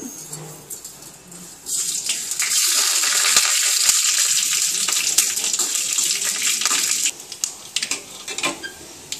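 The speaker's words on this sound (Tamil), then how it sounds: "இப்போ கடுகு மட்டும் தாளிக்கிறேன் தயிர் சாதத்துக்கு." Loud, crackling sizzle of mustard seeds popping in hot oil starts abruptly and holds steady, then thins into scattered pops near the end.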